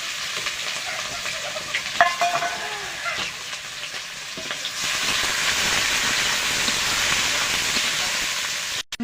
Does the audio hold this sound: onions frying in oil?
yes